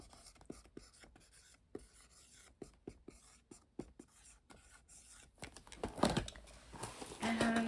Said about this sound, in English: I do write on the side the name of the edition. So I am going to just go ahead and do that on all of these.